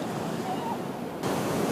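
Sea waves wash onto a beach in Sukhum, Abkhazia, with a little snow lying near the water, a continuous soft surf roar with wind, swelling slightly near the end.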